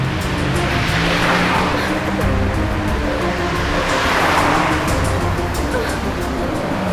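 A car drives along a road in a tense street scene, its engine and tire roar loud and close throughout, with a steady broadband rush rising and swelling around the middle, no clear speech over it.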